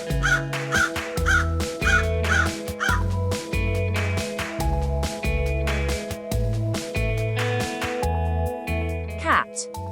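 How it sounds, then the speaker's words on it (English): A crow caws repeatedly in harsh, evenly spaced calls, loud and close, over a steady rhythmic musical backing, ending with a short sharp squawk. "crow, cuervo"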